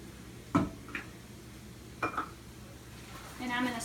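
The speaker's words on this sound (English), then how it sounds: "I'm going to stir this all together." Yogurt stirred into a pot of melted cheese, with a few soft utensil knocks and scrapes against the pot, then a brief burst of stirring toward the end, fairly quiet and without speech.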